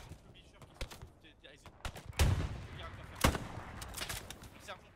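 Sporadic gunshots crack across a World War II battlefield in the video game Hell Let Loose, a few sharp loud reports standing out among scattered distant shots and faint talk.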